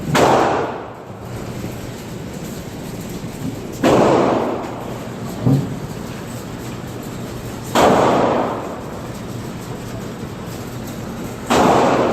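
Four loud, sharp gunshots ring out at spaced intervals, each with a booming tail, fired by a young boy shooting a gun for the first time outdoors.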